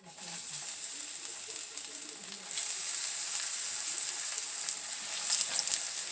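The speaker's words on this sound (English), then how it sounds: "Okay, so we're going to start frying our portobello." Continuous bright sizzling of portobello mushrooms frying in a hot pan, steady and fairly close, growing a little louder partway through, with a faint voice beneath.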